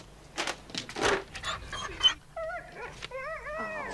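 A dog whimpers and whines in short high-pitched bursts, with breathy panting sounds between them, close up and alone for a few seconds.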